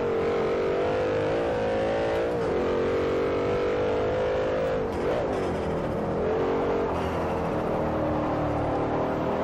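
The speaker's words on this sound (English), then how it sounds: "Wheel spin." Wheel spin of a Gumpert Apollo racing car in Forza Motorsport 4, a loud sustained engine drone with tyre whine that wavers in pitch as power is applied, alone without talk.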